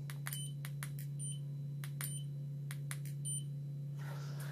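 A Harbor Freight AMES laser distance measure gives off a series of short, sharp electronic beeps in an irregular rhythm over a steady low hum, close and moderately loud.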